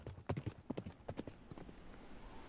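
Horse hooves clip-clop on a mountain trail in Alberta: a close, loud run of walking hoofbeats at the start, then softer, quicker steps fading into a continuous background rustle.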